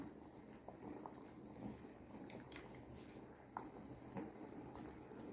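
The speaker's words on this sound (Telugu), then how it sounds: "ఇది ఎలా ఉడుకుతుందో చూడండి ఫ్రెండ్స్ చూడండి బబుల్స్ ఎలా వస్తున్నాయో" Mango sharbat syrup with mint boils in a pot, giving a steady low bubbling and simmering wash with scattered soft pops and a few brief clicks, close by and moderately loud.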